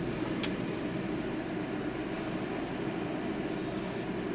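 An airbrush sprays cake color in a steady, continuous hiss that stays even and fairly quiet throughout, with no one talking.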